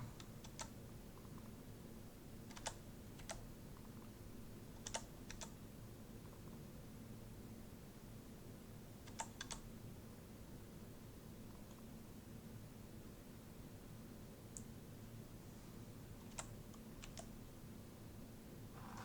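Scattered key taps on a computer keyboard as data is entered, faint and irregular over quiet room hiss, no voices.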